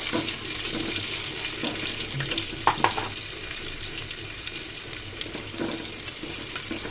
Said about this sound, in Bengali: রসুনটাকে আমি লাল করে নিব হালকা করে